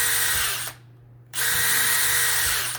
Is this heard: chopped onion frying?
no